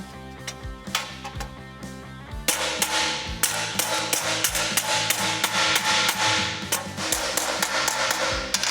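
Hammer and dolly striking sheet metal while straightening body panels on a 1972 Camaro road-course build, a quick irregular run of sharp metallic taps close by that turns denser and louder partway through.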